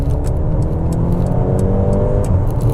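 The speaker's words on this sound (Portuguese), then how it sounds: "mesmo no modo Comfort o escape também tem um som esportivo que é legal" A Mercedes-AMG GLA 35 compact SUV with a 306 cv engine and all-wheel drive, running in Comfort mode, gives a loud, steady, throaty exhaust rumble close by.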